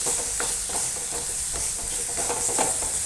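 Chicken with coconut pieces and turmeric stir-fried in a pan, giving a continuous close sizzle broken by soft scraping strokes of a spoon at an even, unhurried pace.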